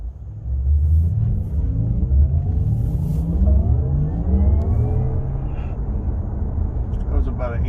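Porsche Taycan Turbo S electric car accelerating at light throttle in Sport Plus mode, a low rumble with a rising whine that climbs steadily in pitch, heard from inside the cabin.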